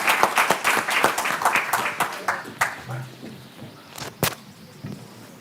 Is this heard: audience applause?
yes